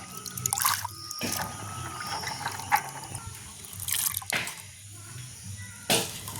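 Water is poured from a pot over chickpeas being washed outdoors in a village, giving intermittent splashing bursts and drips separated by quieter gaps, faint and close.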